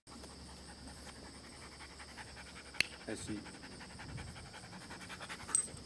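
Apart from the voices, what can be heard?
dog panting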